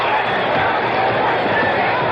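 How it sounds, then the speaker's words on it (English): A New Orleans basketball crowd roars and applauds Pete Maravich as he heads to the bench, a dense, steady wash of cheering and clapping filling the whole moment without a break. "listen to the hand he gets from this New Orleans crowd"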